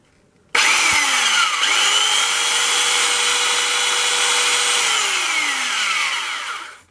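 A belt sander starts abruptly and runs at a steady, loud whine sanding wood for several seconds before winding down at the end.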